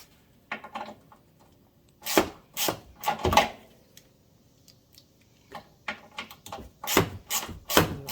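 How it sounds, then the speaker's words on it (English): Quiet workshop scene with several short scraping, ratcheting turns as screws are backed out of a John Deere Gator 865 frame with a T40 Torx hand driver, in brief bursts separated by pauses. "So we'll take these 2 screws out with a T40 Torx."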